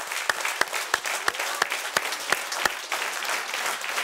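Audience applause greets the actor Cahangir Novruzov as he comes on stage at a TV studio show, a steady wash of clapping from a crowd punctuated by several sharp, louder claps near the front.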